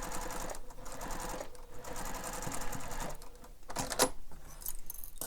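A sewing machine runs at a long stitch length, basting layers of a bag together, its motor whirring steadily up close with rhythmic needle clatter and brief pauses and a small metallic clink.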